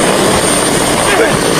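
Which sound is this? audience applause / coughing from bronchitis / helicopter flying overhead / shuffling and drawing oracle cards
helicopter flying overhead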